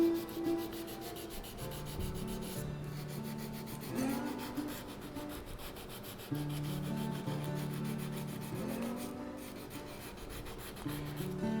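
Hand sanding of wooden knife handle scales, steady rasping strokes in a slow back-and-forth rhythm, close and fairly quiet, with no voices.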